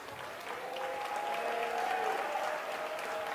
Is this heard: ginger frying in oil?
no